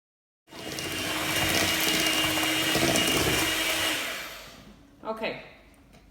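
An electric mixer whisks eggs and sugar for brownies, a steady loud whirring drone that starts abruptly, holds for several seconds, then cuts off, followed by a brief clatter.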